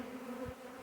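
Honey bee swarm hanging on a swarm trap, a steady close insect buzz lasting under a second with a brief low thump near the middle.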